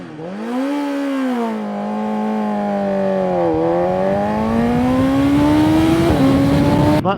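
A BMW M1000XR motorcycle held on launch control, its engine revving loud and close in a sustained, rising buzz that dips and climbs again before settling at a steady high pitch.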